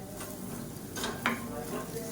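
Raw banana masala is stirred in a pan, making a soft continuous sizzle with a couple of brief scraping strokes, close and moderately loud.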